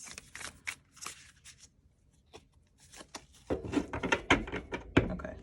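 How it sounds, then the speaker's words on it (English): Velvet-textured tarot cards shuffled by hand, with soft irregular riffling and patting bursts that start sparse and quiet, then grow louder and denser toward the end. "These cards are really hard to shuffle. They have like that velvety texture"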